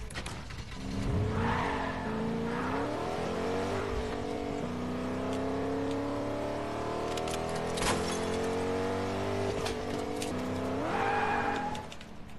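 A 4x4 vehicle in a video game drives steadily with a loud, continuous engine drone whose pitch rises and falls as it accelerates, with occasional skids and thumps, alone without talk.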